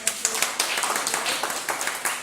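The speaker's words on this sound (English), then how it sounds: "I want to give a big round of applause to Liddell for getting you out of your house" Clapping from a group of people, a steady patter of claps close by, brief and fairly even.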